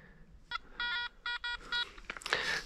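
A metal detector sweeping along a forest trail gives a short series of clean electronic beeps in quick bursts, fairly close, followed by scraping and rustling noise.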